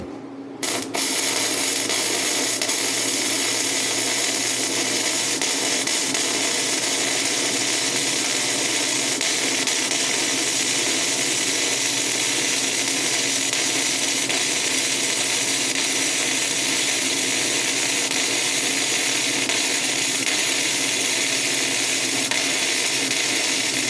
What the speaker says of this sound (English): And George is about to get into some welding here.